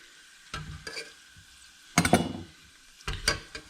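Potatoes frying in hot oil for a Spanish tortilla, with three loud bursts of crackle and clatter as a fresh handful goes into the pan, separated by quieter stretches of low sizzle.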